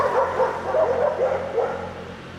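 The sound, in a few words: dogs barking in the street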